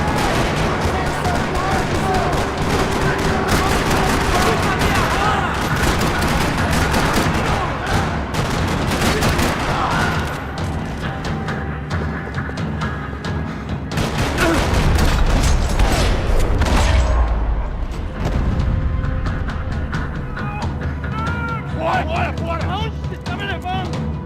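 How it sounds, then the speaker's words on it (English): Sustained gunfire rattles through a parking lot in the video game Max Payne 3, with dense loud bursts and booms over music, heaviest around the middle, and a voice speaking over it. "Another parking lot rattling with gunfire"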